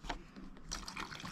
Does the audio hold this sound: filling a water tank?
yes